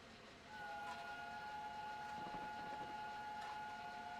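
Flying Scotsman steam locomotive whistle in Train Sim Classic, a steady, loud tonal blast held for about four seconds over the rumble of the moving train.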